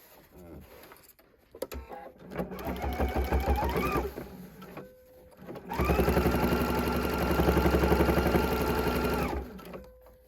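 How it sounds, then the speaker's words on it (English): Sewing machine top stitching the binding on a fabric bag, running in two sustained bursts of rapid, close mechanical whirring with short pauses and handling noises between them. "So I'm going to start top stitching my binding up here"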